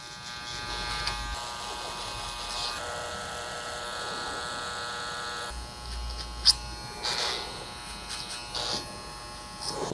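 Electric hair clippers fitted with a size 1 comb attachment buzz steadily nearby during a short back and sides haircut, with brief pauses and shifts in pitch as the blade moves through hair.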